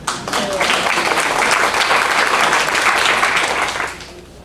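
Audience clapping at a campaign forum, a full round of applause that rises quickly, holds steady for a few seconds, then fades out.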